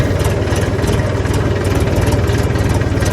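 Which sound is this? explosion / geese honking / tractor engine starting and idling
tractor engine starting and idling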